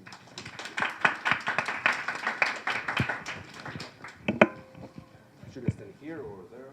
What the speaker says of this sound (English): let's have a round of applause for Yoni